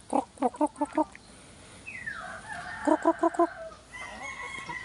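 Laying hens cluck in quick bursts of five or six sharp notes, a pause with softer fowl calls between, then another rapid clucking run.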